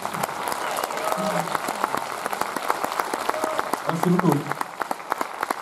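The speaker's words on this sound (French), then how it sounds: "Ça fait plaisir ces applaudissements, François" Audience applause at a French film premiere and debate in Royan, steady clapping spread across the room with someone speaking briefly over it.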